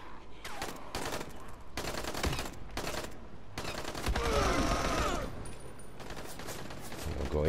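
Gunfire aimed at the player in the video game Dying Light, irregular volleys of shots in clustered bursts with some louder impacts midway, heard through a busy game mix at moderate volume.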